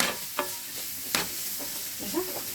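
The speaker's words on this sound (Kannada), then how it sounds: "ಗ್ಯಾಸಲ್ಲಿ ಸ್ಲೋವಲ್ಲಿಟ್ಟು ಮಿಕ್ಸ್ ಮಾಡಬೇಕು." A spiced cabbage mixture with garam masala is stirred in a pan over a low gas flame. A few scraping spoon strokes and clicks sound close by over a soft, steady sizzle.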